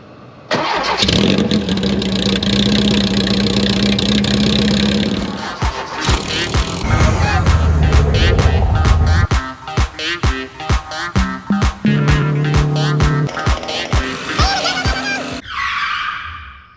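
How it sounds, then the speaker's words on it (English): Porsche 914 with a loud custom scratch-built megaphone exhaust starts and idles, then revs in sharp repeated blips and pops, close and very loud, with no talk. "we're fixing the unbelievably loud exhaust on the 914"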